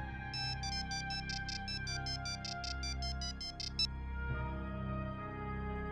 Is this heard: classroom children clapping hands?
no